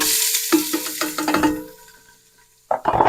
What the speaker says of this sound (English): I'm going to go ahead and drop in my yellow onion,